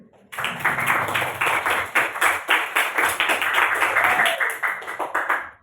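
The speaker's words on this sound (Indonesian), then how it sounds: "Jadi, tepuk tangan." A group of people, likely a class at a closing ceremony, claps together in sustained applause for several seconds, loud and close, with a few voices mixed in.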